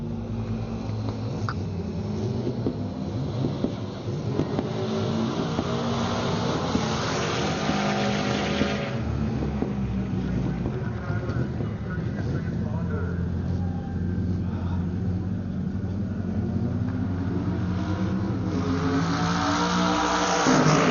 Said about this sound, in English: as you heard on the camera, that was Sean flying down the front straight